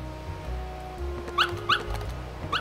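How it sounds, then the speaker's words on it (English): A puppy in the Kingdom Hearts video game gives three short, high yips or whimpers, evenly spaced over soft background game music. "Aw, the puppy."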